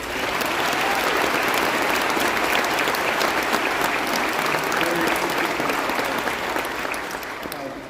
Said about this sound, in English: let's give another round of applause to Dr. Daughters and that amazing junior high school band